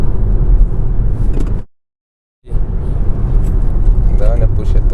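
A 2024 Volvo C40 Recharge Twin, a fully electric car, accelerating hard: a loud, steady rumble of road and cabin noise that cuts to near silence for under a second, then returns just as strong.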